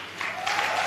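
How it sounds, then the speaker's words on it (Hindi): Audience applause at a live gathering, a brief burst of steady clapping that swells louder halfway through. "ताली बजाएं इनके लिए।"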